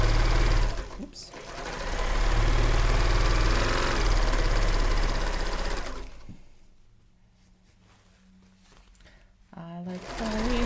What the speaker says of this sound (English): I like sewing fast with my sewing machines.